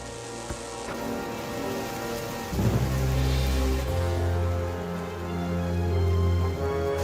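Steady storm rain with a heavy, rumbling wind-like roar that swells midway, broadband and continuous throughout, no voices.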